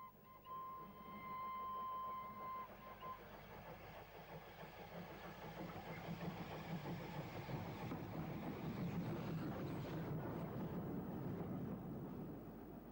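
Isle of Wight locomotive No. 24 Calbourne approaches Ryde St John's Road with a special, a low, faint rumble of engine and rails that gradually grows heavier as it draws nearer, with no talk.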